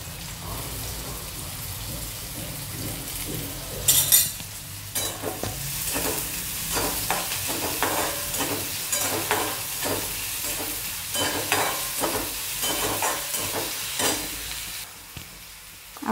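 Onion fries in hot oil with a steady crackling sizzle, punctuated by sharp scraping stirs of a spatula against the pan and a louder splash-like burst early on.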